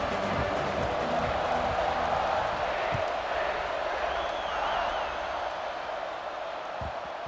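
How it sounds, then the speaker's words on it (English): Broad, roaring video game stadium crowd noise at a college football kickoff fills the space, with distant cheering swelling and settling; a voice speaks faintly underneath at times. "Listen to the crowd energy here in the early going."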